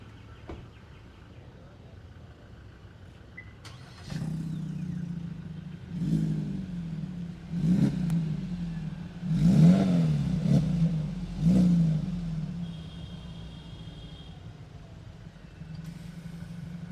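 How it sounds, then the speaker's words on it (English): A Suzuki Jimny engine with a new full aftermarket exhaust cranks and starts, then idles with several revving bursts, a low steady exhaust rumble close by. "So I'll quickly start the vehicle"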